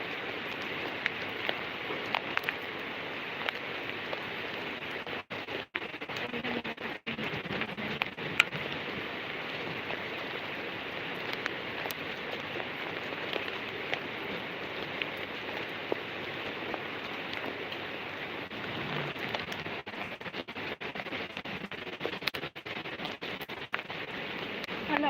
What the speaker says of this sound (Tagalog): Hala, ulan dyan. Oo, dito maulan.